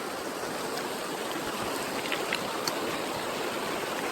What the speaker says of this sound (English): this is Johnston Creek